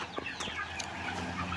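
Backyard farm chickens about two and a half months old, feeding near a small coop, give soft, close clucks and short calls in quick succession.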